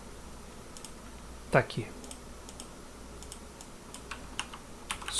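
Typing a file name on a computer keyboard, a few quiet scattered key clicks and one sharper key press, under a brief spoken remark.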